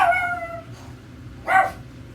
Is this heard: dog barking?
yes